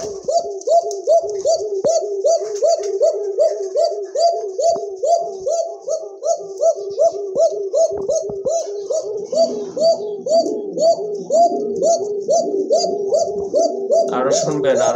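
A khoka pigeon coos over and over in a quick, regular rhythm, close and clear, the throaty calls running without pause and overlapping into a denser burble toward the end.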